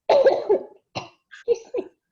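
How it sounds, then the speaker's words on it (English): A person coughs in a quiet room: a strong burst of coughing, followed by a few shorter, smaller coughs, close and dry. "I'm really trying not to cough all the time."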